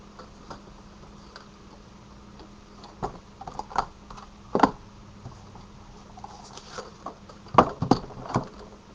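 Stampin' die-cutting and embossing machine pressing a die through card, giving scattered quiet clicks, ticks and rattles with a few louder knocks near the end, with no voices.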